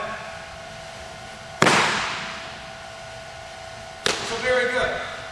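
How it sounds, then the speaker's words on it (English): A baseball thrown during a coaching session, heard as two sharp cracks a few seconds apart, the second followed by a brief rattle, over steady background hum. "and he's going to throw the ball"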